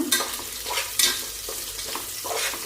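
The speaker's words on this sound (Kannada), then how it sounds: "ಸ್ವಲ್ಪ ಚೆನ್ನಾಗಿ ಫ್ರೈ ಮಾಡ್ಕೊಳ್ಳೋಣ" Sprouted beans, onion and coconut frying in oil in a pan, a crackling sizzle broken by several sharp spatula stirs, close and fairly loud with no talking.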